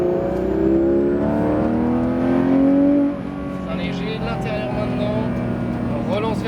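A Porsche GT3 RS engine revs hard and climbs in pitch on the La Ferté-Gaucher race track, then eases back to a steadier drone as a voice talks over it.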